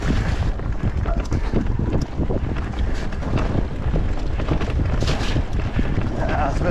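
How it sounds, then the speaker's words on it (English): Strong wind buffets the microphone of a mountain biker on a trail in a steady, roaring rush with low rumbling gusts throughout, loud and close. "Oh, it's a bit windy."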